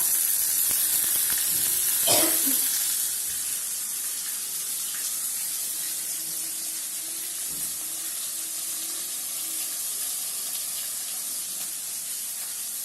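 Tomatoes and onions sautéing in a pan for chicken curry give a steady, hissing sizzle that stays even throughout, with a brief louder clatter near the start and no talk.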